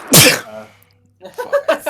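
One loud, close sneeze bursts out, followed by a pause and then people talking at a tabletop role-playing game.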